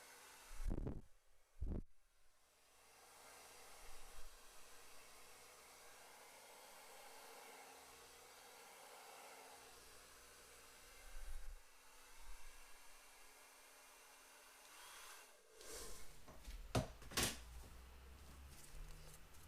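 A hair dryer on its low fan setting blows across wet acrylic paint, a steady soft whoosh that runs for most of the stretch, with a few louder bumps and handling knocks at the start and end.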